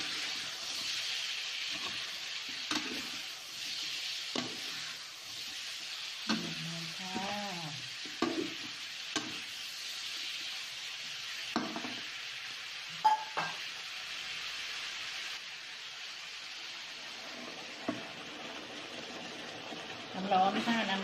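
Chili pork and straw mushrooms stir-fried in a hot pan, with a steady broadband sizzle throughout and repeated scraping, clinking stirs of a utensil against the pan; a brief voice surfaces midway.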